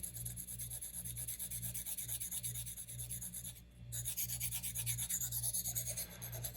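Knife blade being sharpened on a budget THLEITE splash waterstone, a quiet repeated rasping rub in steady back-and-forth strokes with a brief pause midway, close and alone.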